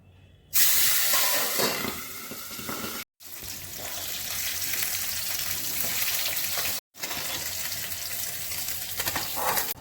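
Pabda fish frying in mustard oil in a home kitchen, a loud, steady broadband sizzle and spatter running nearly the whole time, close up, broken by two brief cuts.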